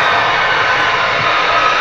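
F-16 jets taking off at RAF Lakenheath give a loud, continuous roaring rush of engine noise, steady and close, with no voices.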